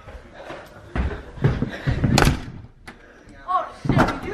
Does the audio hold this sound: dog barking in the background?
no